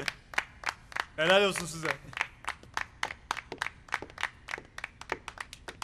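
Sparse, separate hand claps from a small group welcoming friends at a gathering. The claps keep an uneven beat through the whole stretch, with one person's voice rising briefly in the middle.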